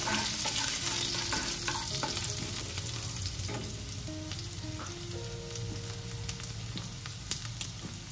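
Cumin and mustard seeds fry in hot oil for a Marathi cluster bean stir-fry, a continuous close sizzle with crackles and pops under repeated stirring and scraping of a spoon in the pan.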